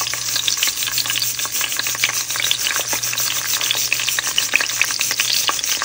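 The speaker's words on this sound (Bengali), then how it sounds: "তো এখন বেগুন ভেজে নিচ্ছি।" Three eggplants fry in an iron wok with a steady, loud, crackling sizzle of hot oil and no talk.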